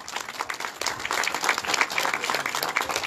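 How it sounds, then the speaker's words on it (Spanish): An audience at a public works inauguration event claps in a dense, steady round of applause, loud and close, with no break. "Fuerte las palmas una vez más,"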